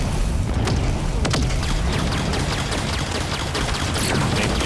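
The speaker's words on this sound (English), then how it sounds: "I heard that beam rifle" Beam rifle shots in Halo 5 on a Forge map, a couple of sharp cracks standing out against loud, continuous wash of battle noise and booms.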